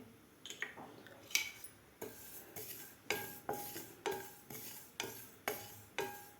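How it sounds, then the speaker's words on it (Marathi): Sesame seeds and grated dry coconut being dry roasted in a pan, with a spatula scraping and stirring in a steady repeated rhythm of short scrapes, close and moderately quiet. "त्यामध्ये आपल्याला आता तीळ आणि हे खोबरं भाजून घ्यायचं आहे"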